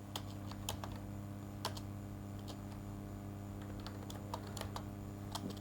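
Keys tapped on a computer keyboard while entering text into a Linux terminal editor, with scattered, irregular clicks over a steady low hum.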